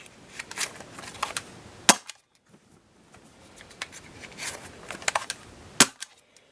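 Umarex Rekt OpSix CO2-powered Nerf pistol firing foam darts in quick succession, a series of sharp, close pops in two bursts with a brief quiet gap between them.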